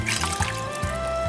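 A cup of water pours into cornstarch for a chocolate ganache, a short close trickle and splash with a faint tonal ring from the container.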